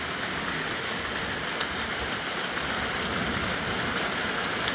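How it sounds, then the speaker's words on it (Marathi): Steady rain falls in a Kokan village during the first shower of the season in May, making an even, unbroken hiss with no voices present. "आताशी पहिला पाऊस चालू झाला"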